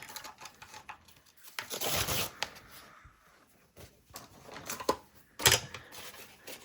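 Scissors cutting out a paper junk journal page, with crisp snips and rustling, crinkling paper close by, some louder bursts in between.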